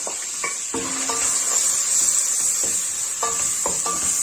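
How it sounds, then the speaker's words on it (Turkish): Onions sautéing in a pot as a steady sizzle hisses throughout, with repeated scraping and clinking of a spoon stirring against the pot. "şimdi soğanımızı kavuracağız."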